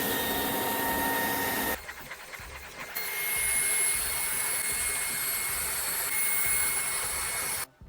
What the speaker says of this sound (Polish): Uruchamiamy odkurzacz opryskujemy powierzchnię.